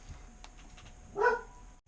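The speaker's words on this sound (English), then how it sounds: "Excuse my dogs." A pet dog lets out a single short bark indoors, moderately close, after a few faint yips, with a quiet room around it.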